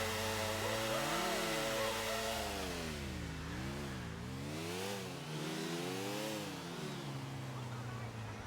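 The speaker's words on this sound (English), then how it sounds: "I'm revving my tires." Car engine revving in Grand Theft Auto IV: The Lost and Damned, loud repeated rising and falling revs with sweeping pitch, continuous and close.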